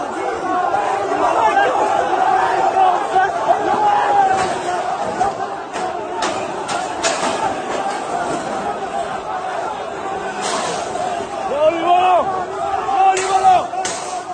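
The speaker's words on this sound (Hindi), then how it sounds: "इस भीड़ ने हिंसक होने की कोशिश की और फिर पुलिस ने जो इनका इलाज किया" An agitated protest crowd clashes with police, a dense roar of many shouting voices with scattered yells, thumps and smacks rising and falling throughout, steady and loud.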